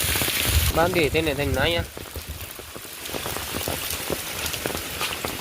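Heavy storm rain pours down on a farm, a dense steady patter of drops that continues after someone talks briefly at the start.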